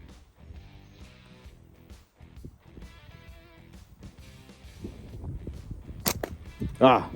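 A Bravo slingshot from Lonestar Catapults fires near the end, a sharp snap of the release followed closely by a louder crack of impact, with quiet background sounds and faint talk before it.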